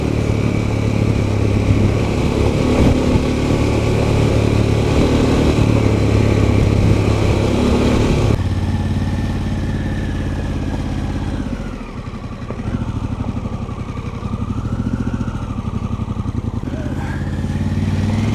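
A Pan America motorcycle rides along a gravel road, its engine droning loud and steady with heavy wind buffeting and a rough, rumbling undertone that settles slightly partway through.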